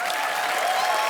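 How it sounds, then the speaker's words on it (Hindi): Dense, steady audience applause on The Kapil Sharma Show, greeting young child Samarth, fills the whole moment at an even level with no talking over it. "समर्थ के लिए जोरदार तालियां, बहुत क्यूट बच्चा है ये।"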